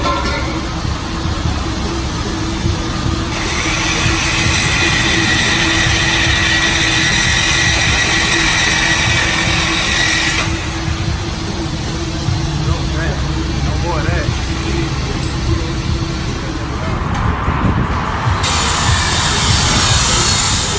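A 2016 Dodge Charger R/T with a straight-piped exhaust runs on a lift in a shop, giving a steady loud engine drone with people talking over it throughout.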